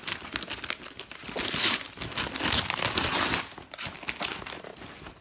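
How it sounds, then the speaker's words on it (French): Wrapping paper on a large boxed Christmas gift crinkles and rustles continuously as it is pulled open, with louder crumpling bursts and occasional tearing close by; no talking. "Alors, on va ouvrir le cadeau."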